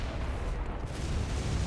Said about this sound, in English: Oh, this dude's cannon is nuts.